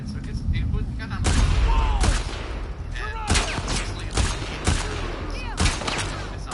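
Heavy video game gunfire rattles in dense, repeated bursts with booming impacts, loud and close, while a person talks over the shooting.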